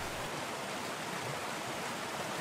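A mountain river in the Swiss Alps rushes over its stony bed, a steady, even hiss of flowing water with no voices or other sounds.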